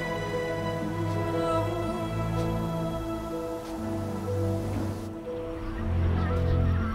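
Geese honk in the video game Ori and the Will of the Wisps on Nintendo Switch, with a flock's overlapping calls set against layered, sustained in-game ambience and music.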